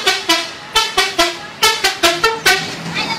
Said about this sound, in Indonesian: Tetapi klakson dengan bunyi telolet yang khas dan sudah dimodifikasilah yang menjadi incaran para pemburu.